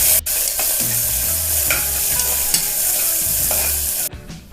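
Cabbage and onion sizzle steadily in a pan while a spoon stirs them, scraping and clacking in repeated strokes, loud and close, until the stirring stops near the end.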